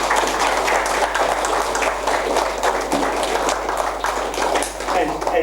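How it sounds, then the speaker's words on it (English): A round of applause after an economic update talk, moderately dense clapping that holds steady for several seconds over a low constant hum, with some voice mixed in. "just round of applause for John"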